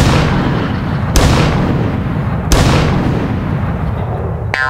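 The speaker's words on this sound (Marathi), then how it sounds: "या पंचला त्याने 3 तोफांची सलामी दिली बघ." A cannon salute sound effect: deep booming shots strike one after another, about three in all, over a constant heavy roar.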